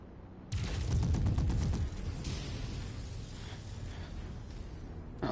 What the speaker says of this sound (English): those are basically more machine guns then.